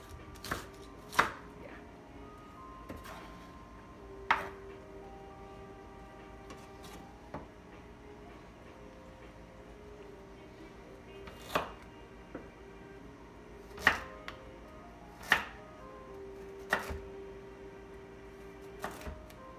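A knife chops through a big hunk of ginger on a cutting board, giving sparse, sharp thunks at irregular intervals over a quiet room background.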